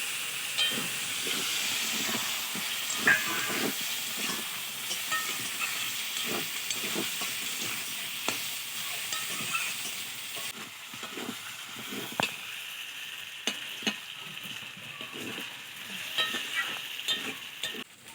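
Katla fish head masala being sautéed in a pan for muri ghonto: a continuous hissing, steaming sizzle close up, broken by frequent short scrapes and taps of a spatula stirring, no talking.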